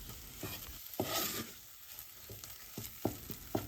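Thick choux pastry dough being stirred and cooked in a pan over high heat, with repeated soft scraping and thumping strokes of the spoon over a faint sizzle, close and fairly quiet, no voices.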